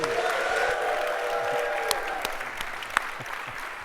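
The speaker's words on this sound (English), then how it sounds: "Give them a big round of applause." Conference audience applauding two speakers at a FinOps rate optimization talk, a broad crowd clap that is strong at first and gradually thins, with a few scattered louder claps near the end.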